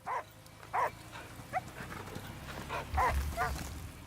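A dog in the video game Last Day of June gives several short barks spread across the moment, moderately near over a low rumbling ambience.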